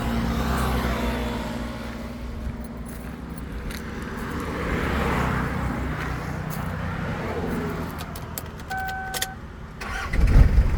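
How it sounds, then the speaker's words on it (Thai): A 1999 Toyota Hilux Sport Rider 4WD 3.0L pickup engine rumbles steadily at close range, idling with a low throaty drone, with faint clicks and a few high beeps near the end. "เดี๋ยวผมสตาร์ทเครื่องให้ดูนะครับ"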